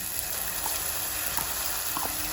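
Spice paste frying in hot oil for an egg curry with potato and soya chunks, a continuous fine sizzle with faint crackles and small pops, moderately quiet and close.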